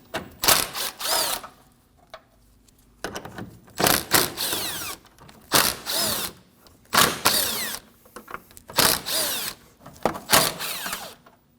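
A power drill runs in repeated short loud bursts, whirring and ratcheting as it backs out 10mm bolts along the front grille of a 2016-2022 Honda during condenser fan replacement, with brief pauses between each burst.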